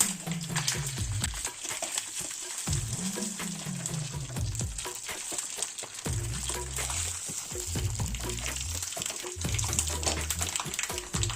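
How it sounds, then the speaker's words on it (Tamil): Mustard seeds, cumin, urad dal and dried red chilies fry in hot oil for a bottle gourd curry, a loud, steady crackling sizzle that runs without a break throughout. "எண்ணெய் காயவும் கடுகு சீரகம் உளுத்தம் பருப்பு மூணுத்தையும் ஒன்றாவே போடுறோம் வரமிளகாயும் சேர்க்குறோம்"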